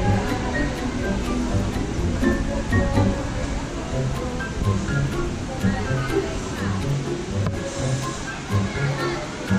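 Continuous rushing roar of water at Hinulugang Taktak waterfall, steady and fairly close, with a crowd's voices chattering faintly underneath.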